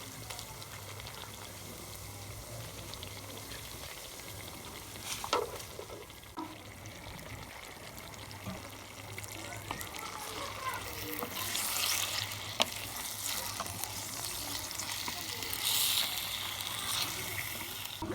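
Chicken tipped into lightly fried onions in a karahi, sizzling and spitting steadily in hot oil, with occasional stirring scrapes and clinks over the continuous fry.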